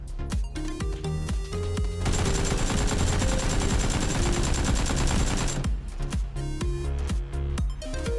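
AK-47 fire in PUBG: sustained rapid full-auto bursts, loud and close, with a continuous dense spray in the middle and shorter clipped bursts at the start and end.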